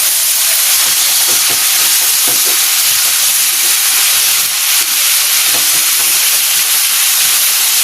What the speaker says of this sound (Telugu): ఇదిగోండి, ముక్కలు వేగుతున్నాయి కదా, టమాటా, పచ్చిమిర్చి అన్నీ వేగుతున్నాయి